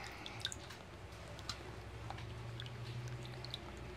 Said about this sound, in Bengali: মাছের ডিম আমি একটু ভালো করে সুন্দর করে ধুয়ে নেব